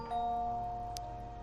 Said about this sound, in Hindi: मैंने जैसे ही आरोही के घर के दरवाजे की घंटी बजाई